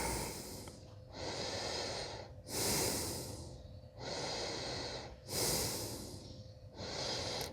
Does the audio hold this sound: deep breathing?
yes